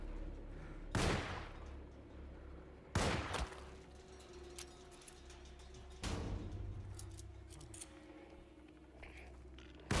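Three loud, close gunshots spaced about two and a half seconds apart ring out in the Alone in the Dark video game, with quieter game ambience and faint clatter between the blasts.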